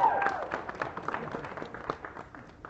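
A crowd of spectators at a SeaWorld Orlando announcement event claps and applauds steadily, a dense spread of hand claps that starts loud and gradually fades over a couple of seconds.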